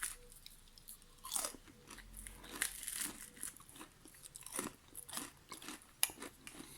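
Crunchy bites and chewing of a crispy chicken-and-pasta basket, with close, irregular crackling crunches repeating over several seconds and no voice.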